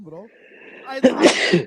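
A single sharp sneeze bursts out close to the microphone in the middle of a man's casual speech, with talking just before and after it.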